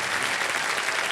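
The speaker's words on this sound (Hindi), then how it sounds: "ताली बजते रहे इनके लिए।" A studio audience at a game show claps steadily and loudly, dense applause filling the whole moment with no voice over it.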